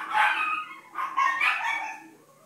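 Dogs bark and yip in a few short bursts indoors as someone arrives home, fairly close and moderately loud, with a quieter gap between the bursts.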